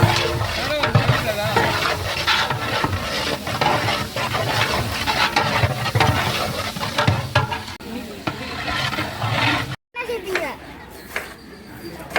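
Onions and green chillies frying in a pan for chicken biryani at a family function, a continuous loud sizzle with stirring scrapes, people chattering in the background throughout.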